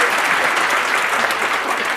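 Applause from a large audience gathered around Khan Sir, dense steady clapping filling the space without letup.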